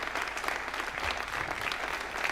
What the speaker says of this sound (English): There's the final good news and a lot of applause